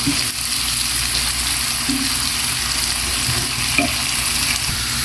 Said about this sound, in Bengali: এবারে এই সর্ষে বাটাটা দিয়ে আবারও ভালো করে কষাই নেব